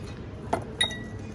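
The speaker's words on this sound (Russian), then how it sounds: "Парочку стаканчиков себе сейчас новеньких возьмем." A pair of new drinking glasses clink together twice in quick succession, bright and close, as they are picked up in a quiet indoor space.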